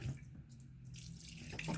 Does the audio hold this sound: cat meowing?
no